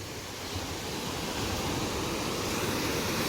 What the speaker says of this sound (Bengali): বাট আজকে পুরো জল উপচে পড়ছে, সিঁড়ি অবধি জল চলে এসছে।